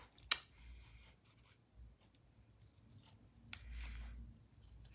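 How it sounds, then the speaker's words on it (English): Scissors cutting a paper banner from designer series paper for card making, two quiet crisp snips several seconds apart with faint handling rustle in a quiet room. "I'm going to cut a little banner and put on here"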